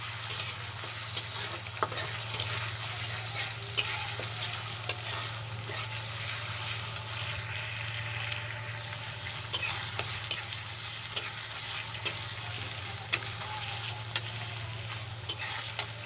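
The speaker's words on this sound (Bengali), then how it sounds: "এক টেবিল চামচ আদা বাটা এক টেবিল চামচ রসুন বাটা এটাকে হালকা ভেজে নেবে" Ginger and garlic paste frying in a pan for pilau, giving a steady, moderate sizzle with scattered clicks and scrapes from stirring throughout, no voices.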